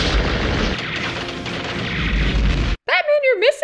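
Loud, dense burst of automatic gunfire and booming blasts from a huge gun in the 1989 Batman film, roaring steadily for nearly three seconds before cutting off, followed by a shouting voice.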